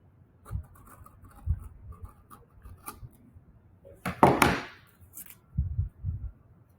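Paper handled for a Fibonacci spiral art project: soft thumps of folding and pressing, a scraping crease, then a louder rasping cut through a sheet, followed by a few more dull taps, all close up in a quiet room.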